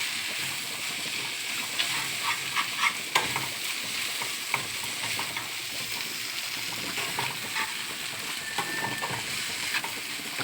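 A fish and cauliflower curry bubbling in a pan, a continuous steady sizzle with soft stirring clicks and occasional light clinks, close and even throughout.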